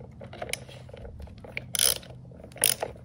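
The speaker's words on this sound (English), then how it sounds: "I'm gonna have to go ahead and turn this counterclockwise." A socket wrench ratchets counterclockwise to loosen the head of an EGO string trimmer, giving short bursts of rapid clicking between quieter handling noises, close and fairly soft.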